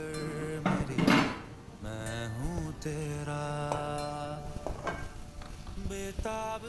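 Grated carrots fry in a kadai for carrot halwa, with sizzling under repeated scraping and clinking of a metal spoon against the pan, close and busy throughout.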